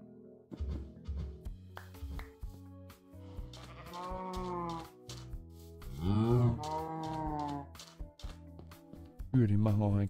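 Livestock calls from the Minecraft video game, several drawn-out harmonic bleats and moos rising and falling in separate bursts, with game clicks and rustling between them at moderate volume.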